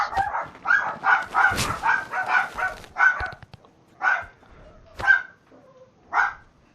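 Several dogs bark in a home recording, a quick run of loud barks followed by sparser, spaced-out yips and barks, close to the microphone.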